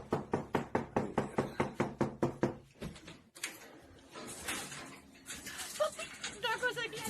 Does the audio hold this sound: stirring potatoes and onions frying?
no